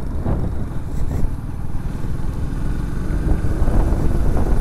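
A Suzuki GR150 motorcycle engine drones loudly while riding, a steady low rumble mixed with rushing wind noise that builds slightly toward the end, heard from the rider's position.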